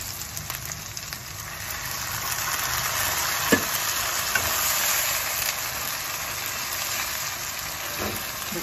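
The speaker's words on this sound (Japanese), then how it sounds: "白ワイン入れちゃいます。" White wine goes into a hot pan of porcini and pancetta spaghetti and sets off a steady loud sizzle and hiss that stays dense and even throughout, with a faint clink near the middle.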